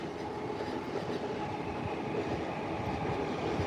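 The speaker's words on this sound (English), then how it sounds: "There goes another Shinkansen." A Shinkansen bullet train runs past Tokyo Station, heard from a building above as a steady rushing rail rumble with light clatter, fairly distant and unbroken throughout.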